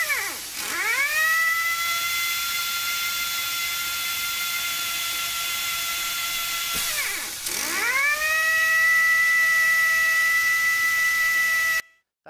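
An AirMaster brush centering machine runs in automatic mode with a loud, steady motor whine. The pitch dives and climbs back twice as the rotation reverses, and the sound cuts off abruptly at the end.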